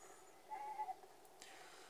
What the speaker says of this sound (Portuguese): Cabritinha maléfica.